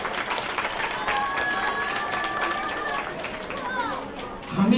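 An audience at an Independence Day Urdu speech program applauds to welcome a student speaker, with steady clapping and crowd chatter under a voice speaking near the front.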